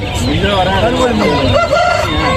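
Roosters crow repeatedly amid a noisy chicken market in Vadalur, Tamil Nadu, with overlapping calls and people talking in the background.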